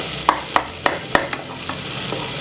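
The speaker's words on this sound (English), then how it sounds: "just cook it for a few seconds. Just a few seconds, then add your onions." Onions frying in a pan for a catfish dish, a constant sizzle punctuated by about six evenly spaced, sharp spatula taps and scrapes, close and fairly loud.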